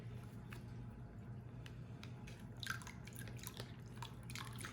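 Water drips and trickles from a cut coral shipping bag into a container, a faint series of irregular small drops and splashes over a low steady background hum.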